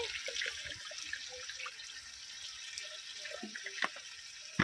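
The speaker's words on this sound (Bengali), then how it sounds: "যেহেতু আমি গ্রেভি করব সেই জন্য আমি একটু জল দিয়ে দিচ্ছি" Water poured into spice paste being cooked down for a gravy, a faint splashing and sizzling trickle with small drips, quiet and close.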